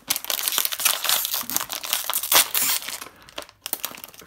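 A LEGO Disney Series 2 minifigure blind bag is torn and crinkled open by hand, with loud, close plastic crumpling and ripping in rapid bursts, followed by a brief pause and more rustling.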